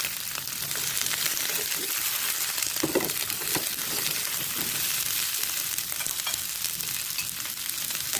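Chicken breast pieces for sweet and sour chicken sizzle steadily in a hot pan with fried onion, garlic and chili, while stirring adds scraping and clattering throughout; no one talks.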